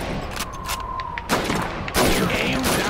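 Rifle shots fired at bottles and plates on a shooting range in Call of Duty 2 Red Army training, several loud sharp cracks spaced irregularly over steady background noise.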